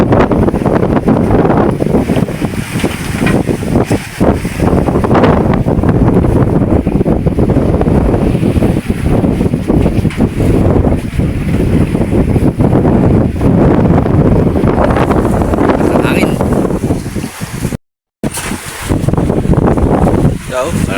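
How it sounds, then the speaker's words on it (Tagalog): Strong wind and big waves buffet a fishing mother boat at sea in worsening weather, a constant loud roar of wind on the microphone with surging wash, and voices talking underneath. "Lalong lumalakas, lalo pang lumalakas ang panahon."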